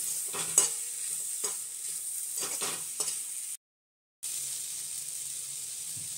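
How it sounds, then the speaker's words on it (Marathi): Finely grated coconut is dry-roasted in a pan for a masala and stirred with a spatula. Soft scraping strokes and a faint sizzle sit at low level, briefly cut to silence midway before resuming. "हे खोबरं आहे थोडं बारीक करून घेतलेलं, छान याला एक जीव होईपर्यंत भाजू द्यायचं"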